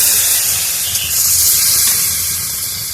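Water poured into a hot pan of spiced potato and soybean curry gives a loud, steady sizzling hiss with a steamy spray that holds for a few seconds, close by and with no talk.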